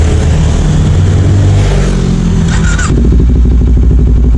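A Kawasaki Ninja 400 motorcycle engine roars loudly and close, revving hard and climbing in pitch, then settling into a steady throbbing rumble.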